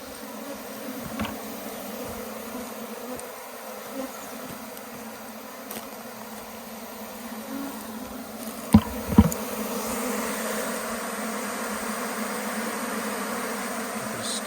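A swarm of bees buzzes as a steady, faint hum, with a few sharp knocks and thuds partway through and the buzz swelling slightly toward the end.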